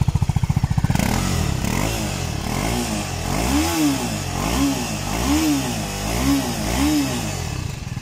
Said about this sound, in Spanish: Así suena con el escape original, el que trae de fábrica esta moto.